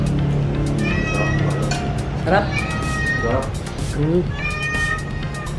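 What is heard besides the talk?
cat meowing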